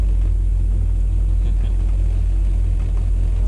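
A truck engine rumbles steadily and close by as the vehicle pulls away, a constant low drone holding through the whole stretch with no voices over it.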